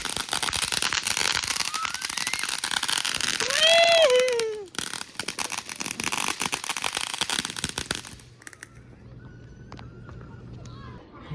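Community Fourth of July fireworks crackle and pop in dense bursts for about eight seconds, with a whistling rocket rising near the middle, then the noise drops away to quieter distant pops and a faint hum.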